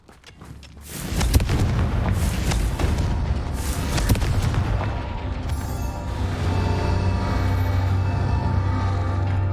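Confringo blasting spell explosion effect: a sharp blast erupts after a second of quiet, then rolls into sustained rumbling boom and debris, loud and close, with a low engine-like drone settling in toward the end.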